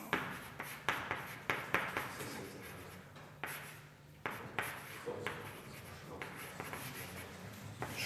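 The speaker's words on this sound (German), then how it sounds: "Schreibe ich mal auf." Handwriting at close range, with quiet scratchy strokes in short repeated bursts, pausing briefly and then resuming in a steady rhythm, no talk.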